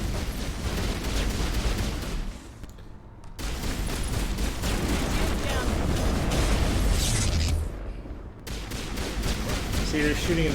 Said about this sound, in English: they're shooting into walls here